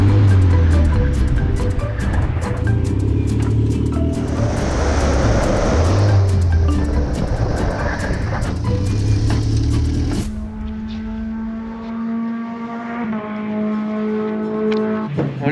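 A five-time French champion Formula Renault race car being driven on a track and spinning, its high-revving engine loud and steady, then dropping to a lower, changing drone after the spin, with no talk.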